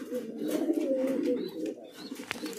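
Fancy pigeons, including a white Pomeranian pouter with feathered feet, coo softly and continuously in a breeding loft, a low rolling murmur with faint chirps in the background.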